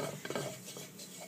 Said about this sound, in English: About 2 tablespoons of butter and about 2 tablespoons or more of flour. And you mix that together.